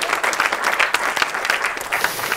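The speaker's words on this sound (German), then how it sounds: "dafür nochmal einen großen Applaus" Dense audience applause at a live stage event, loud and continuous with individual claps popping out, slightly uneven and fading a little at the end.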